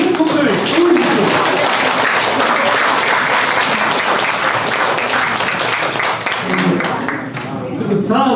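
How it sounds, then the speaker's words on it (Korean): Loud, sustained applause from an audience at an indoor political party forum in Korea, a dense wall of clapping that lasts throughout and thins slightly near the end. "여러분, 큰 박수로 한 번 더 김문수 후보를 응원해 주십시오."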